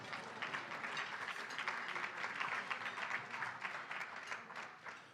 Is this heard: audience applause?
yes